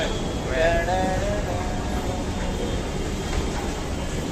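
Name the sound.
Jaipur metro train running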